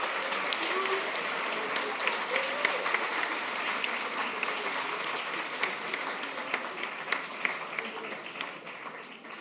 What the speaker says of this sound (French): je pense qu'on peut applaudir Victor